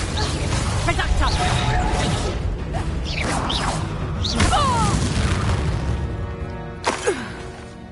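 A Reducto spell in the Hogwarts Legacy game fires as a run of loud booming blasts, whooshes and smashing impacts, with repeated bursts over dense combat noise.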